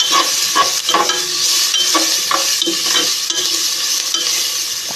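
Onion, garlic and atchara sautéing in a pan for menudo, a loud continuous sizzle broken by repeated spatula scrapes and stirring clatter, no voices.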